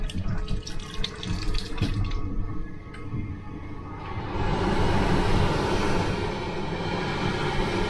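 Water tap in an accessible toilet on a C2C train from London Liverpool Street to Southend Central: some clatter and thuds, then a strong, steady rush of water into the sink from midway on.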